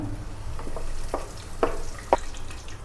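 Curry leaves sizzle in hot oil for a vegetable pulao, a steady close frying hiss broken by a few sharp crackles and pops, with no voices.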